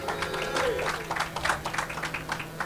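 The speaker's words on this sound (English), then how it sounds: "Might have been more people cheering for Sjaak, actually." A tournament crowd at a live esports match applauds and cheers for a player, with a dense, steady patter of clapping over a low hum and murmur.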